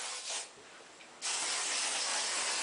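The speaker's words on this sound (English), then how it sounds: "so I just spray and I load up" Hair spray misted in long bursts onto short natural hair during a roller set, a brief softer hiss giving way to a sustained, loud, close spray.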